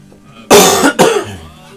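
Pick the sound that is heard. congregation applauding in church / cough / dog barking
cough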